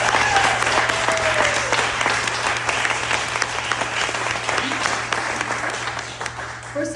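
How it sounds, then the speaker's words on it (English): Listeners at a 2024 heritage art summit talk applaud with sustained, full clapping that stays loud throughout and eases off slightly toward the end, with a faint voice near the close. "Can we all have a round of applause for her?"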